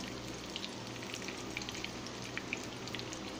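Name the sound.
eggplant frying in olive oil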